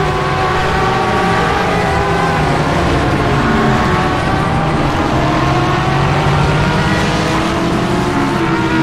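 Race cars roar through a night stint of a multiclass endurance sim racing event, with an LMP2 prototype overtaking GT cars on the straight. The engines form a loud, steady, continuous drone with shifting pitch and no talking.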